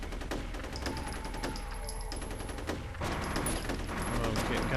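Rapid gunfire in the video game F.E.A.R., a steady stream of crisp shots in quick bursts with a short pause, fairly loud amid combat noise.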